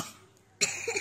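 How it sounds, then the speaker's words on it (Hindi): A child lets out a burst of coughs in a home during the morning, near and fairly loud after a quiet moment. "ओ खांसी हो गया।"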